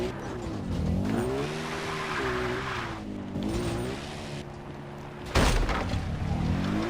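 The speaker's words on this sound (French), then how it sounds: "Wow, ce quad est horriblement pas maniable." Quad bike in the video game Far Cry 3, its engine droning steadily with pitch rising and falling as it is driven, tires skidding and a sharp thud near the end, loud and close with no talking.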